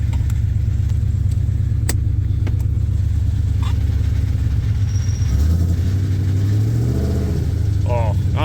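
A 2003 SVT Mustang Cobra with a worn-out, slipping clutch strains to pull away, its engine droning and rising steadily, loud and close, with sharp clicks and clatter and a shifting pitch toward the end.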